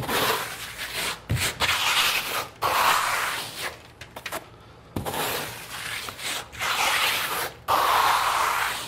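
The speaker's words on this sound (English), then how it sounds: "when I'm coating that surface, I've got my trowel up on angle" A trowel spreads Dryvit Lymestone finish coating across a wall in repeated scraping strokes, short rasping passes broken by brief pauses, close and fairly loud.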